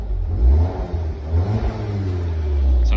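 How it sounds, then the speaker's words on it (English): A 2-litre Audi TT engine is blipped twice on the throttle, each blip swelling from idle and then dropping back, close and loud with a steady idle rumble between and after. "We can give you a couple of blips on the throttle to whet your appetite."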